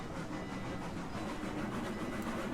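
A Climax geared steam locomotive in the Railroads Online video game labours up a steep 10% grade, giving off a steady, dense rumbling chug with faint rhythmic clatter and no pauses.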